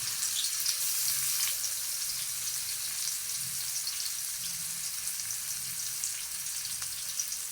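Chopped onions hit hot oil in a pan, giving a steady bright sizzle and crackle that runs evenly from start to end with no talk over it.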